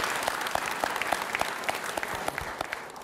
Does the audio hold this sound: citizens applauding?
yes